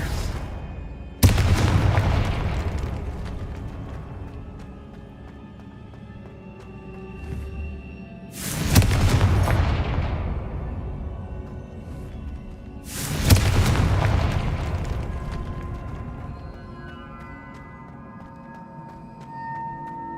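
Confringo spell explosions in a Harry Potter video game: three loud, booming blasts spaced several seconds apart, each with a sharp onset and a long rumbling decay over a low game backdrop.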